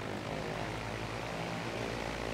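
A Cessna 172 trainer engine in a flight simulator drones steadily, with a dense propeller hum that holds constant and loud throughout, heard alone.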